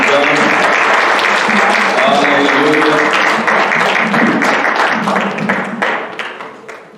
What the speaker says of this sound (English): give the Lord a hand clap for all the things he's done